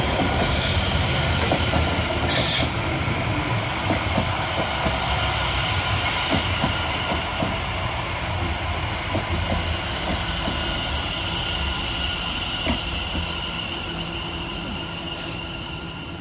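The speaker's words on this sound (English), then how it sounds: "Arriving next into the station is 710-259 and 710-128, working the 1223 London Overground service" A pair of London Overground Class 710 electric trains arrives at Bruce Grove station, producing a steady rumble and rolling clatter of wheels. Brief squeals and clicks from the rails cut through the rumble as the trains draw in.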